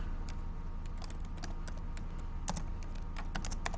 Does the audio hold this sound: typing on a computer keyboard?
yes